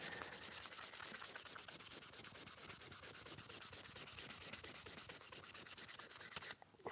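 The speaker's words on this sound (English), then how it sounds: "I'm going to have to get a bit of sandpaper in this" Sandpaper rubs back and forth on the wood of a wooden spokeshave being restored. The strokes are rapid, rhythmic and close, running steadily and alone, with a short break near the end.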